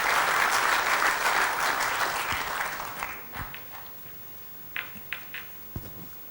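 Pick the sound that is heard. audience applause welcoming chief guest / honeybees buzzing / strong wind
audience applause welcoming chief guest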